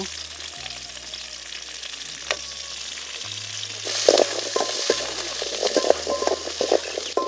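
Chopped onions with curry leaves fry in hot oil for a Mettur-style fish curry, giving a steady, close sizzle with intermittent stirring scrapes that grow louder and busier toward the end.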